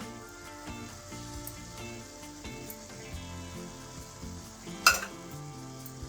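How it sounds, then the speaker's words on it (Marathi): Phodshi greens with coconut sautéed in a pan, with a steady low sizzle and repeated scraping stirs, plus one sharper clatter near the end. "खोबरं घातल्यावर व्यवस्थित परतून घ्यायची।"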